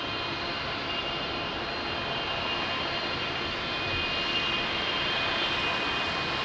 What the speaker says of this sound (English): So another big boy, 777, Angola Airlines, crossing the runway